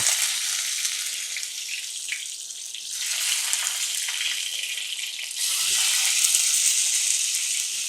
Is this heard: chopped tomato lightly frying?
yes